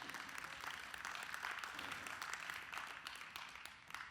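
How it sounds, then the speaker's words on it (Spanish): A church congregation gives a strong round of applause after a sermon, continuous clapping that sounds somewhat distant and fades slightly toward the end. "Vamos a darle un fuerte aplauso por eso."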